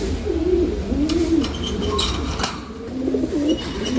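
Golden-line pigeons cooing in a backyard loft and aviary, several low rolling coos repeating through the clip with a steady background hum and no talking.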